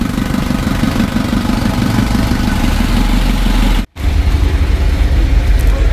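Isuzu Traga engine running steadily after its first start-up, a loud, continuous idle with a mechanical clatter that cuts out for an instant partway through, then carries on.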